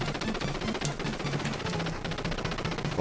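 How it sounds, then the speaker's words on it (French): Rapid machine gun fire in the video game Contra Operation Galuga, a continuous fast rattle of repeated shots that runs steadily throughout at moderate loudness. "J'ai une mitrailleuse."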